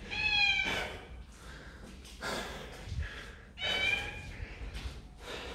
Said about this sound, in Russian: Кошка у нас.